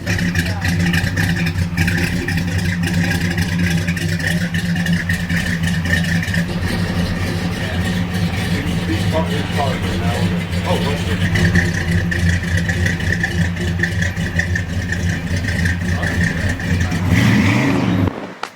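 A rare muscle car engine runs loudly and continuously at close range, a rough, steady rumble with occasional blips of revving, then cuts off abruptly at the very end.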